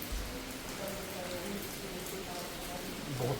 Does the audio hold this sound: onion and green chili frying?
no